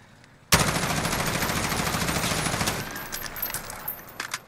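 LVOA-C carbine with a 14.7 inch barrel in Call of Duty Modern Warfare, firing one loud sustained automatic burst of about two seconds, then quieter scattered shot echoes and game sounds as it tails off.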